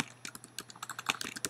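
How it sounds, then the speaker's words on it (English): Fingers tapping on a computer keyboard while text is entered, a quick run of light, close clicks at an uneven pace, quiet and with no voice. "Now I can type copyright 2013"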